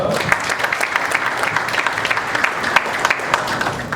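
An audience at a conference on the criminal liability of sports federation leaders applauds the speakers, steady dense clapping from many hands that carries evenly through the whole stretch.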